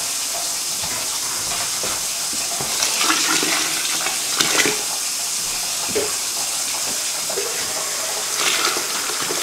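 Water runs steadily from a tap into a wine-making container holding sugar, a continuous loud hiss and splash with small surges throughout.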